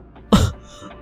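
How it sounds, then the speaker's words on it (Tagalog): A single short, harsh wet cough for a storytelling sound effect of someone coughing up blood, close and abrupt, fading quickly into quiet. "Umubo-ubo ng dugo si Elaine."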